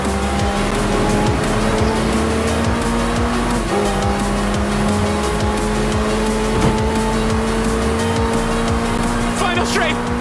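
A McLaren Senna races in Forza Horizon 4, its engine droning steadily and loud throughout with tire squeal and shifting pitch, while excited talk runs over it.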